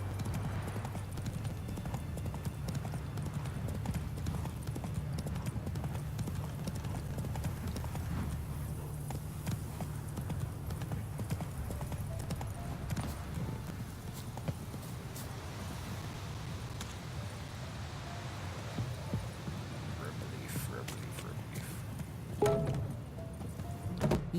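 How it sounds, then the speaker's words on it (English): Steady hoof clip-clop of a horse running in a Witcher video game, a quick, even galloping rhythm under soft ambient game sound, fairly faint throughout with a brief knock near the end. "Run, Roach"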